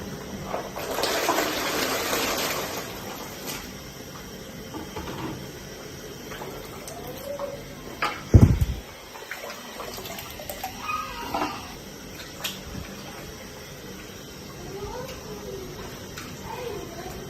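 Water splashes and sloshes as palm fruit is washed in a pot for banga stew, a gushing burst early on, a sharp knock midway, then intermittent swishing and trickling close by.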